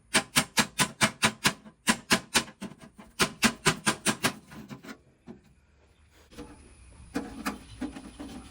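Barbecue chicken being cut, with a rapid run of sharp, evenly spaced chopping strokes in close succession, a pause, another quick burst, then quieter scraping and handling sounds near the end; no talking.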